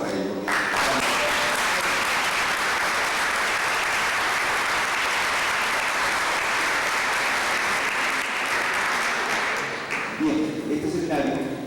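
Sustained audience applause for adult education students at a seminar in El Bosque, Chile, in 2005: a steady, full wash of clapping for about ten seconds, then fading as voices resume.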